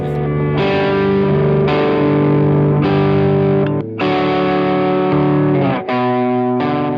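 Electric guitar played through a BL-44 reverse effect pedal: sustained, swelling chords ring continuously and loud, changing roughly every second, with no voices over them.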